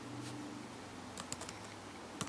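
Light typing on a computer keyboard, a few soft scattered key clicks at close range over a quiet room hiss.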